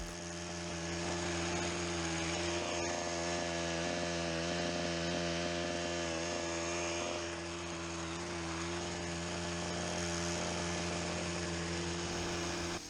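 A petrol hedge cutter drones steadily while trimming a big hedge outdoors, its engine a constant mid-distance hum with strong harmonic tones that holds for the whole stretch, with no talking.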